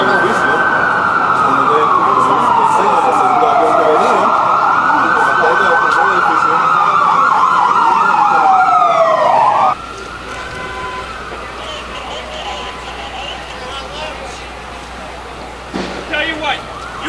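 Ambulance sirens wail loud and close in long sweeping rises and falls on a city street during the September 11 attacks, shifting pitch as the vehicles pass and slow; partway through the sound drops to a quieter, more distant siren with some voices present.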